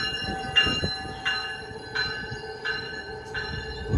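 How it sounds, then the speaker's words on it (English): An Amtrak Capitol Corridor passenger train, number 728, arrives at a station, with steady rail rumble and a repeating high bell or chime ringing at even intervals, heard at moderate distance. "Here it comes. This is a train I'm going to be riding on to Emeryville"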